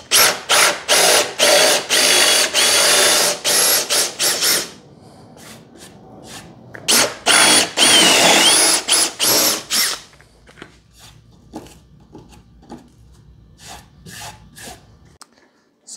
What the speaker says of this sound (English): the next step that we got to do is drill the holes for the soft close hinges